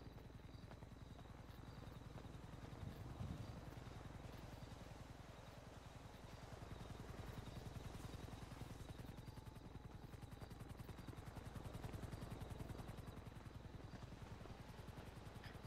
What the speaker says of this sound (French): pourquoi il y a un hélico qui fait du surplace